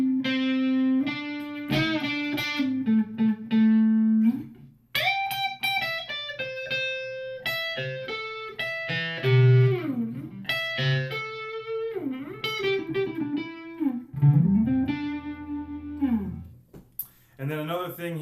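A Gibson Les Paul Studio Plus electric guitar with distortion plays sustained notes, bends and short phrases, moderately loud and alone.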